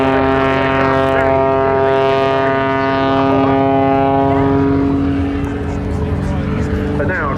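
Pitts S-2S aerobatic biplane with a 6-cylinder, 8.5-litre engine of over 300 horsepower, performing at the Cosford Air Show, its engine a loud, continuous droning roar whose pitch shifts slightly as it dives.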